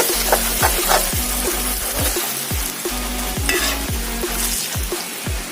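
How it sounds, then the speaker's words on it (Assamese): Spices frying in a pan for a fish head curry, a steady loud sizzle broken by repeated rhythmic scrapes and stirring strokes, close up with no voices. "এইখিনি আমি মছলাখিনি দি ভালদৰে অলপ ভাজি ল'ম যাতে মছলাৰ কেঁচা গোন্ধটো নাহে।"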